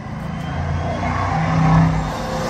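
A loud car roars past close by with a deep, sustained exhaust drone that swells and fades over a couple of seconds, in the manner of a ProCharged Hemi.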